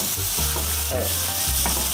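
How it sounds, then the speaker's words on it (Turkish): Beef ribeye sizzling in a hot pan, a loud, continuous close-up crackle and hiss, with stirring noise throughout. "Etin en güzel yeri olan dana sırt antrikot. Şu anda cızırdamaya başladı."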